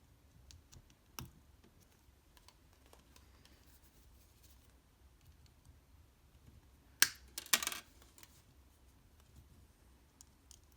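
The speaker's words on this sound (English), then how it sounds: "go ahead and snip them short." Wire cutters snip the ends of wrapped jewelry wire short behind a pendant bail: a faint click early on, then two sharp close snips near the end over quiet room tone.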